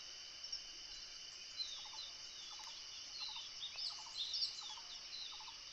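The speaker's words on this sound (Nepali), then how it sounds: "विभिन्न चरा, कीट पतङ्गहरूको आवाज मात्रै छ।" Steady high-pitched insect trilling fills open countryside, with faint, repeated short bird chirps scattered through, and no voices present.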